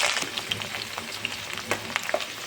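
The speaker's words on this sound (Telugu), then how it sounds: "ఆయిల్ వేడయ్యాక ఉల్లిగడ్డ, పచ్చిమిర్చి, లైట్గా కొత్తిమీర వేసి ఫ్రై చేసుకోండి." Onion, green chilli and coriander frying in hot oil for chicken curry, a soft continuous sizzle with a few quick spatula scrapes and taps, brief and close.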